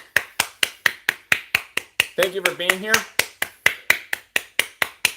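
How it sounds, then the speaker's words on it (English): Steady rhythmic hand clapping welcomes live stream viewers, sharp close claps at an even pace of roughly three per second, briefly overlapped by a person speaking midway. "we applaud for anybody who comes into a live stream as well too. So that's why I'm clapping."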